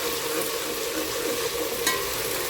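Continuous loud sizzling of ginger garlic paste frying in a hot pan, with a brief sharp crackle partway through.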